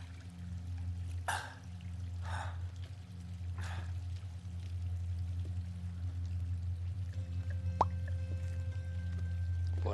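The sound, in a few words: water pouring down like a shower in Uncharted 3 video game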